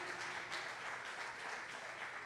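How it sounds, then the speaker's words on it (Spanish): An audience applauds at a family reunion with a dense, steady wash of many hands clapping, fairly loud and unbroken throughout. "Un aplauso del Señor porque hay que aplaudir por la vida."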